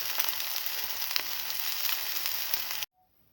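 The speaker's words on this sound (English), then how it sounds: "take the omelette off the pan and turn it over. Then let it fry for 30 seconds." An omelette with cinnamon and shallots sizzling in a frying pan, a dense steady crackling hiss close up that cuts off abruptly near the end.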